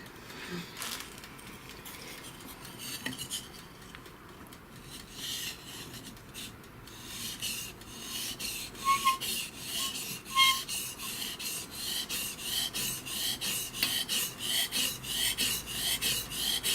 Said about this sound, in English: And from the sound and the technique that you use together, you can sharpen the knife.